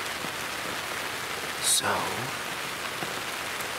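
Steady rain falls through the woods in Pennsylvania on the last day of deer rifle season, a constant close hiss of drops on leaves and ground, broken by one brief spoken word.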